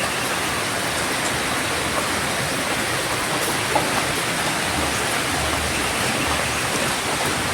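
Heavy rain pours down steadily in a dense, even hiss that continues without a break for the whole stretch, loud and close, with no voices.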